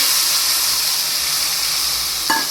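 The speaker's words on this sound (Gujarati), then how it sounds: "હવે આપણે આ બેથી ત્રણ લીલી ડુંગળી સુધારીને લઈ લીધી છે તેને આપણે તેલમાં નાખી દઈશું" Two or three chopped green onions dropped into hot oil with turmeric in a pan, making a continuous close, loud sizzling hiss with a short clink near the end.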